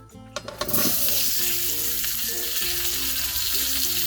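Pre-cut ridge gourd drops into hot leftover oil with a few clattering knocks, then a loud, dense sizzle and crackle settles into a steady close frying roar, no voices.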